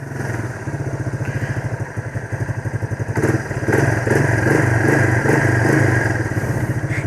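A Yamaha YTM225 three-wheeler with a 5-speed semi-automatic gearbox chugs and putters close by, its small engine running with a rapid regular pulse and a brief rise in revs midway, steady and loud with no talk.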